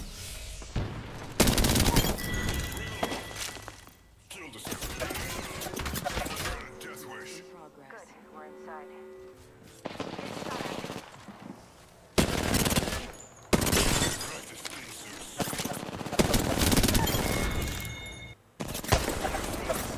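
Kraber sniper rifle shots ring out in a video game amid loud, dense bursts of rapid gunfire that come and go with short quieter gaps across a long firefight.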